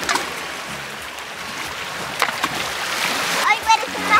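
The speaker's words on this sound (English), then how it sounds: "We can spend literal hours at the side of water throwing things into it." Objects tossed into the waters of Loch Ness land with a few sharp splashes near the end, over a steady watery background and wind, with people talking and reacting close by.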